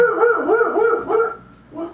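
A pet dog barks repeatedly in a quick, rhythmic series close to the mic, the barks loud and tonal with a howling edge, tapering into a softer yelp at the end.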